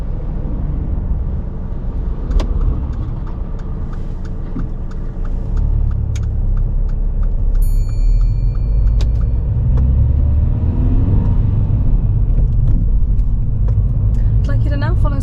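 A car on a driving test pulls away, with a steady low engine rumble building gently under a continuous hum, and occasional brief clicks and a short tonal beep partway through.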